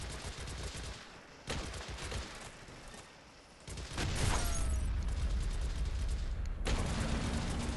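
Anti-tank gun firing in the Men of War video game, several sharp booming shots with crackling battle noise around them, loud and close amid continuous gunfire.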